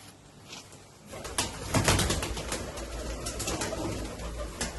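Taddy, Golden or Sialkoti pigeons coo nearby in a low, throaty rolling burble, several birds calling over one another against a steady background, with a brief rustle near the start.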